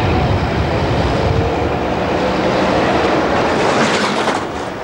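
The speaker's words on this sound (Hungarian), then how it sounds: "Ez a 62-es villamos." A Budapest line 62 tram passes close by as a loud, steady rumble with wheel screech and rail noise, holding for several seconds before easing off slightly at the end.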